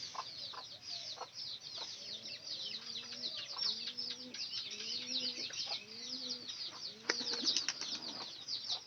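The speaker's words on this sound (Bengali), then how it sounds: "নতুন কবুতর কিন্তু গেল" A newly kept domestic pigeon flies off with a soft flurry of wing flaps, while gentle cooing from other pigeons repeats faintly in the background of a quiet outdoor loft.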